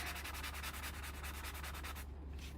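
Steady back-and-forth rubbing of a sanding block, rhythmic scratchy strokes close up, stopping near the end.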